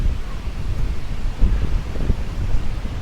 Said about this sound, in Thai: ลมแรงมากเลยวันนี้